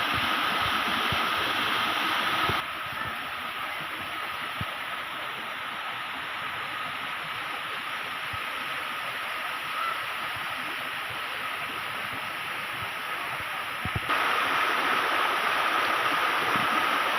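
Waterfall at a scenic Konkan picnic spot, a steady broadband rush of falling water that holds constant throughout, growing slightly louder near the start and end, with no voices.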